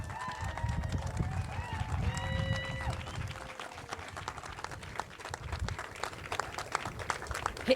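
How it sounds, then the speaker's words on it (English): Audience applause for a guest at a clean water event, a spread of clapping that carries on under a speaker's voice and scattered crowd noise, building again toward the end. "Let's give a big round of applause for my friend"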